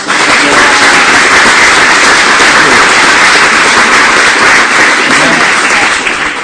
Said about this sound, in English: give a warm round of applause for Garr and Nancy